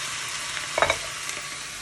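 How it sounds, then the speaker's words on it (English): Prawns and cabbage stirred with soy sauce in a hot pan, a soft continuous sizzle punctuated by a few quick scraping clacks of the utensil midway through, close and alone. "Stir it around."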